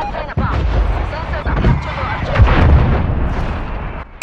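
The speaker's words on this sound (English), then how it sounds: "Artillery targeting detected. Artillery inbound." Artillery strike explosions in Call of Duty: Cold War, a run of loud, deep booms and rumbling blasts with sharp cracks, game voices talking over the barrage.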